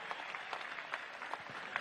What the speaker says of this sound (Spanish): Vamos a mandarle un aplauso a Walter de Dossier